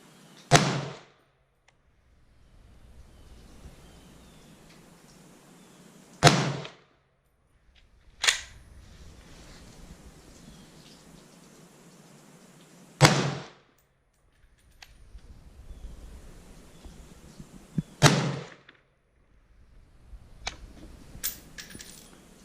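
Five sharp rifle shots from an Imbel FN FAL built on a Coonan inch-pattern receiver crack out one by one, spaced several seconds apart, each with a short echoing tail and quiet gaps between.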